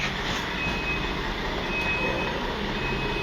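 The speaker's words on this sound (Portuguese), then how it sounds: "o caminhão está estacionando ali com todos os barulhos possíveis" A truck arrives and parks outside a window, making a steady low engine rumble with a thin continuous high whine above it, loud and unbroken throughout.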